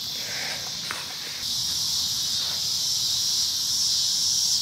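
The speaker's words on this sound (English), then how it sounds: "hear the cicadas" Cicadas buzz in a steady, dense, high-pitched drone at sunset at an outdoor truck campsite, loud and continuous with faint rustling and low background noise beneath.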